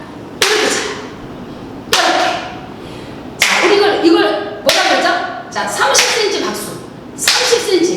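Hands clapping in a seniors' online exercise class, a series of sharp, loud single claps spaced about a second or more apart, each ringing briefly, close to the microphone with an instructor speaking between them.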